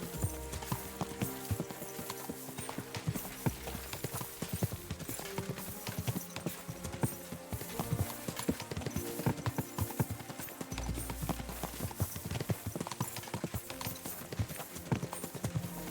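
Horses ridden across open country in Kingdom Come: Deliverance II make a steady, continuous clip-clop of hooves, close and even throughout, with a faint whinny at one point and no talking.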